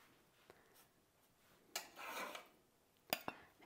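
Freshly baked cookies scraped and lifted off a metal baking sheet with a utensil, giving a burst of scraping around the middle and a few sharp clinks near the end, quiet overall with no talking.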